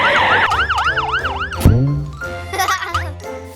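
A cartoon fire truck's siren wails in a rapid rising-and-falling pattern, loud and close, then breaks off into a sweeping sound effect before brief siren bursts return.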